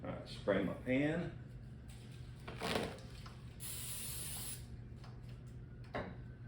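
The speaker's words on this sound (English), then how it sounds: "Spray my pan." Cooking spray hisses onto a pan in one steady burst lasting about a second, close up in a kitchen while a person talks before and after.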